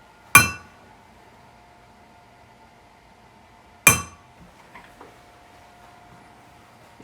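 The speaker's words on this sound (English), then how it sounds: "It's called a punch, and I'm going to create a divot in the metal for a drill to fit in" Two sharp metallic strikes of a hammer on a metal punch making a divot in jewelry metal, a few seconds apart, each ringing briefly, followed by faint light clicks in a quiet room.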